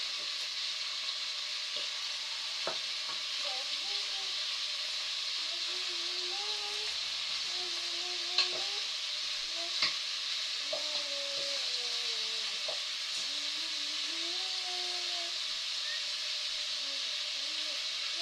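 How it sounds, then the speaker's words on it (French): Beef pieces browning in a hot pan give a steady, even sizzle, with occasional scrapes and clicks as they are stirred and turned. A faint voice murmurs in the background. "Pour tourner vos morceaux, les faire dorer à mesure, bien sûr."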